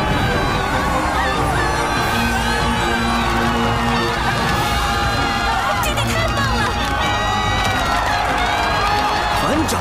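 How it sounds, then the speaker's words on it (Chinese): A large crowd cheers for a newly chosen alliance leader, with a loud, continuous roar of shouts, whoops and clapping sustained throughout and sharper bursts of applause near the end, with voices mixed into the din. "去接受属于你的欢呼吧"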